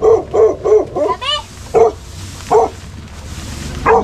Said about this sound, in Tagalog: Laking aso.